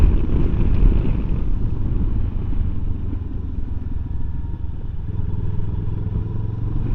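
A 2024 Benelli 702 low-seat motorcycle with a 700cc engine rides along, its engine a steady low hum mostly buried under heavy wind rush against the microphone.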